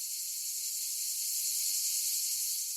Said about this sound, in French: C'est le chant des cigales.